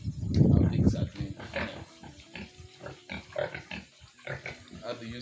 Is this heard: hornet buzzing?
no